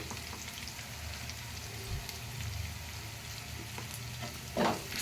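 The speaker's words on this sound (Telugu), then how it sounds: "కొంచెం చూడండి ఫ్రై అవుతుంది" Spices and chopped ginger sizzle steadily in hot oil in a pan for egg curry, a constant dense frying hiss with a brief louder spatter near the end.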